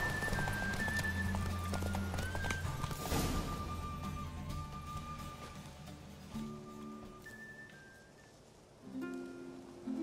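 Horse galloping in The Witcher 3, with hoofbeats and a brief whinny near the start over game music, easing off toward the end.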